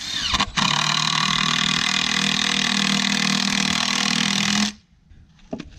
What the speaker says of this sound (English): run in some decking screws. Pop 2 in so it doesn't spin.